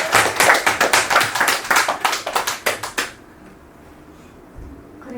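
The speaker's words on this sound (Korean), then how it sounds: "박수 한번 칠까요?" A rapid burst of about a dozen sharp hand claps over roughly three seconds during a Buddhist prajna dharma service at a Zen meditation center, followed by a hushed room.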